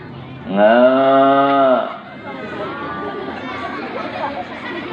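A cow gives one loud, drawn-out moo lasting about a second, followed by quieter farmyard murmur and low voices in the background.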